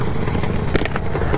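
A 1973 Kawasaki S2A 350 three-cylinder two-stroke motorcycle engine running steadily nearby, a dense buzzing idle with a slight crackle throughout the short stretch.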